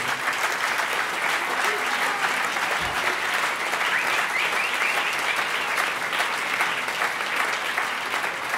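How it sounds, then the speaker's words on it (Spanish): Sustained audience applause at a live presentation event, steady and dense from start to finish with no pauses, a large room's worth of clapping filling the whole stretch. "solo con un aplauso estamos contentos"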